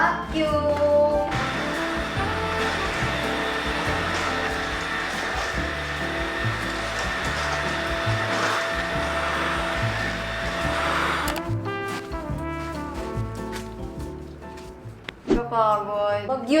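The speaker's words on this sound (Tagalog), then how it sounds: "Time to vacuum!" A vacuum cleaner runs while a condo is being cleaned, making a loud, steady motor roar under background music, then shuts off about two-thirds of the way through, leaving the music alone.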